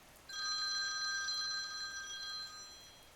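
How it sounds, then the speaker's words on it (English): A single electronic telephone ring sounds for about two and a half seconds, steady and clear against a quiet background. "Around 12:20, the phone rang."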